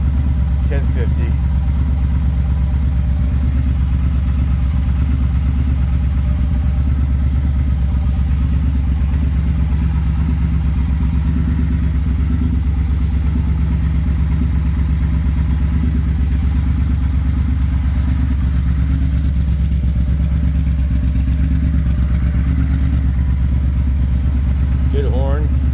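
A Triumph Speedmaster 1200 motorcycle idles at around 950 to 1050 rpm, a steady loud low rumble with mechanical clatter running unbroken throughout, close to the bike.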